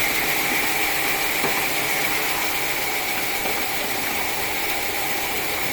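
A 300 kg feed mixer's motor hums steadily and continuously at close range, an even mechanical drone with faint rattling, no voices.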